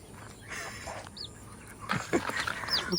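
Chickens cluck in short bursts at a village home, the calls fairly close and mixed with other farmyard noise.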